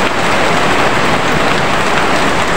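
Heavy rain pouring steadily and loudly, a dense, continuous hiss of drops hitting surfaces close by with no break.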